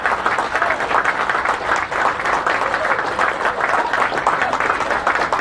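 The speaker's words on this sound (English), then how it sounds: "please stand and receive a round of applause from the rest of the group" Sustained applause from a seated group at a pipes awards presentation, steady and fairly loud for several seconds as the masters of pipes stand, with a few voices murmuring underneath.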